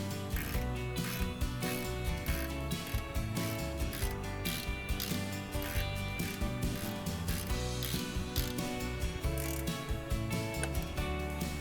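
Fastener being tightened on a Cobra Fortis cylinder lawn mower quick-exchange cartridge, a steady rapid ratcheting click with metallic mechanical whir running continuously and evenly throughout, close up and without speech.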